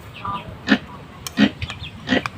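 A pig grunts three times at a steady rhythm, close and fairly loud, with faint farmyard sounds in the background.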